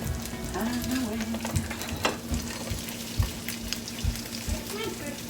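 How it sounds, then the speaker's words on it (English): Bacon sizzles and crackles steadily in a pan close by, with irregular pops and spits over a continuous frying hiss and a faint background hum. "Here's my bacon. On the way."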